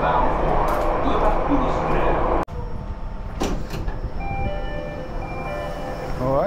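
Steady rumbling roar of a Jakarta commuter train rolling on rails, broken by a sudden brief drop, then continuing with a thinner hum and faint tonal whines.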